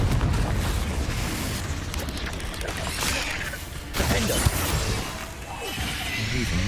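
Spell blasts from Bombarda and Confringo in the Hogwarts Legacy video game, a dense run of booming explosions and whooshes over a busy battle din, with a sharper burst near the middle.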